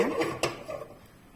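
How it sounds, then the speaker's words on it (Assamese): A wok set down on a kitchen stove gives one brief metallic clunk, followed by faint clatter, in a home kitchen while preparing a sour fish curry. "এতিয়া কেৰাহীখন মই পাতি দিছো"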